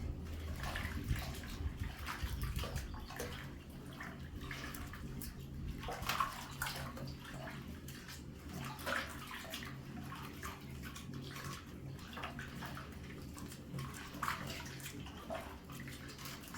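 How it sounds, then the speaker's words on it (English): Skinned maize is swished and rinsed by hand in a basin of water, soft splashing and trickling in irregular bursts, quiet and close. "I can show you how we wash them."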